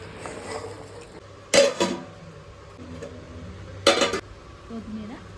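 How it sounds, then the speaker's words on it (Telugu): Mutton trotters being stirred with salt, coriander powder and garam masala in a pot, giving two short bursts of clattering scraping against the metal over a low simmering background. "కొంచెం ఉప్పు, మటన్ కాళ్ళను వేసుకొని బాగా కలుపుకోండి."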